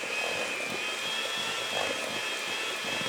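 Electric mixer whipping almond paste for pignoli cookies, a steady close whirring hum with a high motor whine that runs unbroken throughout, with no voices.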